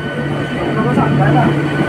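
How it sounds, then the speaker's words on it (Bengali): Steady low rumble of a train rolling along, a continuous even drone with a faint hum and no distinct clatter. "আমাদের ট্রেন আস্তে আস্তে এগিয়ে চলেছে"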